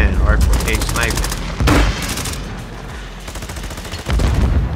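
RPK light machine gun firing in Call of Duty Warzone, rapid sustained automatic bursts with loud punchy reports and a short pause midway, with players talking over the shooting.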